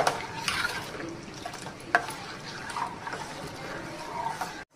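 Milk payasam with jaggery and almonds being stirred in a pot, giving a soft steady scraping and swishing with occasional light clinks of the spoon against the vessel, close and continuous, no talk.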